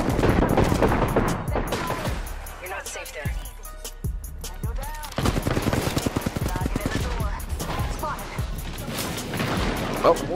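Mortar bombardment in the video game Apex Legends, heard as a rapid series of sharp explosive bursts and cracks, close and loud, mixed with players talking.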